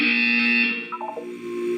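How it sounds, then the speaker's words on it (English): A steady electronic buzzer in the video game Portal 2 drones loudly for over half a second, then breaks into a short run of warbling tones before a lower hum. "You will hear a buzzer. When you hear the buzzer, look up at the ceiling."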